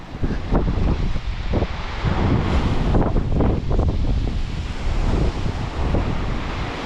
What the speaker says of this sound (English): all the waves crashing up against the wall here on camera